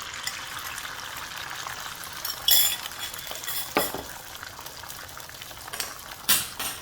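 Three scrambled eggs cooking in a hot pan sprayed with non-stick cooking spray, a soft steady sizzle broken by a few sharp utensil clinks and scrapes, fairly quiet and without talk.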